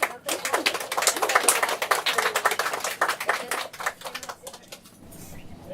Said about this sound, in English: can I have a big round of applause for Cindy Lamb?